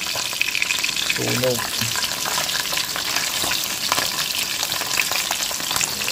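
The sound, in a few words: fish frying in a pan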